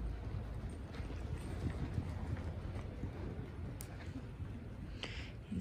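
Horse hooves clip-clopping steadily on an arena surface while ridden, a continuous even rhythm at moderate distance with light wind noise and no voices.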